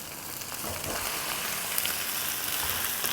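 About a kilogram of chicken pieces fries with onions, ginger and garlic on a tawa. A dense, even sizzle with occasional stirring clatter carries on steadily up close.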